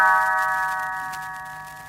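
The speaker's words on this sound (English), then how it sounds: "You will know it is time to turn the page when Tinker Bell rings her little bells like this." A little bell chime rings once to signal a page turn in a read-along storybook, a bright sustained metallic tone that slowly fades away with no voices over it.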